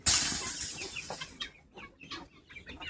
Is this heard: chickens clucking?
yes